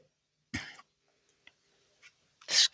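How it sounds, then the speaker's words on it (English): One person coughs sharply at close range, then gives a few faint throat sounds and a second harsher cough at the end, in an otherwise quiet room. "Excuse me for coughing, honestly."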